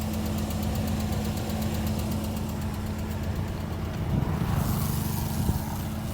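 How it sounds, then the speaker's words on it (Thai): Ford Aspire with an automatic gearbox idling, its engine giving off a rapid, regular ticking over a steady low hum, close and continuous, with no talk. "จากวิดีโอน่าจะพอได้ยินเสียงดังติ๊กๆนะครับ"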